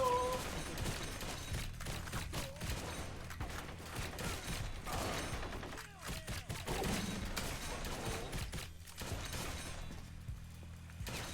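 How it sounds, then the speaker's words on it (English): Rapid light-gun shooting in the video game Blue Estate crackles in dense bursts for the whole stretch, layered with clattering and crashing game effects at a fairly quiet level. "Shoot them all."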